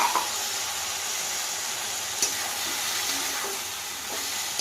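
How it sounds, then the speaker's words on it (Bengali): Okra and potato frying in a pan with mustard and poppy seed paste, a steady close sizzle with a few light scrapes of stirring, no talk. "ভেন্ডি আর আলুটা একটু ভাজা ভাজা হয়ে আসছে।"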